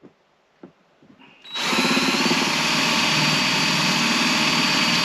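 After a quiet moment with a few light taps, a power drill starts up loudly close by and runs continuously to the end, drilling a hole in a tuna can.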